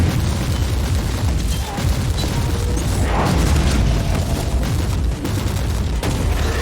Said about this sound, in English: I put out a grenade.